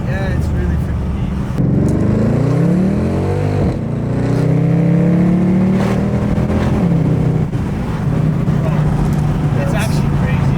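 A Mercedes W204 C63 with a full valved exhaust system revs loud and close, its deep engine note rising and falling, while people talk over it.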